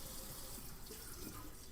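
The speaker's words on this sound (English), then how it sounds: "You want to be mindful of that water pressure when rinsing your dishes." A kitchen faucet runs into a sink while dishes are rinsed, giving a faint, steady, continuous splashing stream with no talking.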